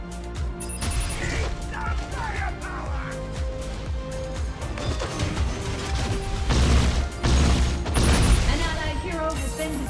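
Gunfire and crashing impacts from Rocket Raccoon in the Marvel Super War game, dense bursts of shots and explosions over game music, with a voice talking over the action.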